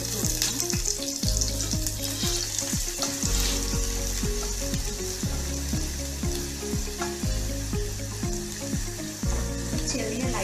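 Chopped small shallots, five or six of them, frying in a tablespoon of hot oil for a mustard-seed tempering, a steady loud sizzle with rhythmic low knocks and musical background underneath, no talking.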